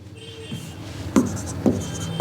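Marker or chalk writing the word MEANING on a classroom board, with close scratchy strokes and three sharp taps or dots as letters are finished, loud and alone without talk.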